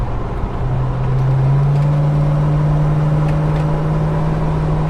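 A Holden HK sedan cruises through corners at about 50 to 60 mph on a country road, its engine a steady, loud, close drone holding an even pitch with a slight rise, and no talk.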